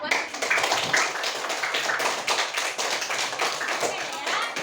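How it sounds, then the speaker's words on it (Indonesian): Students in a classroom give themselves a lively round of clapping, a dense, uneven patter of many hands close by that stays strong for several seconds, with some chatter mixed in. "memberikan tepuk tangan yang meriah untuk diri sendiri"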